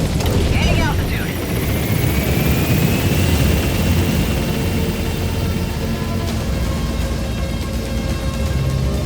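Helicopter in Metal Gear Solid V: The Phantom Pain climbing away, a steady loud rotor and engine roar filling the scene with a rising whine, no voices.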